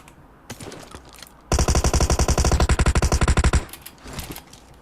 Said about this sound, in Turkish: Silah sesleri niye gitti?